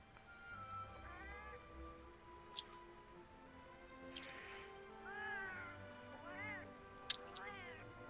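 A cat meows several times in rising and falling calls, fairly faint and spread out, with a few sharp clicks and a quiet background hum.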